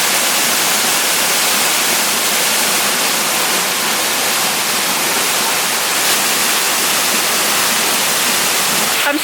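Steady, loud roar of a waterfall on Siargao, dense broadband rushing water that continues unbroken throughout with no voices.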